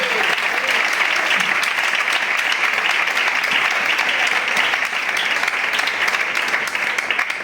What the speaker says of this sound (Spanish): Le damos un aplauso a la palabra del Señor.